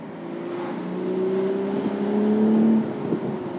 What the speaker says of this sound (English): when you roll on and off that throttle, it just gives you those nice pops